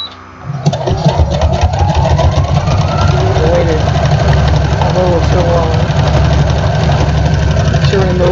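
A sewing machine runs steadily, top-stitching box binding on a quilt, its fast motor hum and needle chatter continuous and close throughout, with a voice talking over it.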